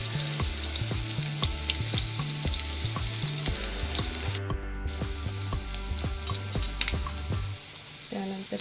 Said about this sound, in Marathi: राई जिरं फुलायला लागलं की मग आपण त्यामध्ये लसूण टाकणार आहोत